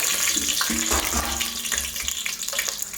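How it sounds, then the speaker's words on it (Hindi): A bay leaf drops into hot oil for mutton curry, raising a dense, steady hiss and sputter close by that eases slightly over a few seconds, with no talking. "गैस तेल गरम हो गया है, हम तेजपत्ता डालेंगे"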